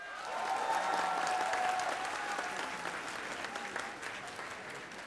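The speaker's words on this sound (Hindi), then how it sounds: "मैं चाहता हूं कि पीयूष जी के सम्मान में एक जोरदार पहले तालियां हो जाएं।" A talk show audience applauds a guest, a dense, sustained wash of clapping that swells quickly, peaks, then tapers slightly while continuing steadily to the end.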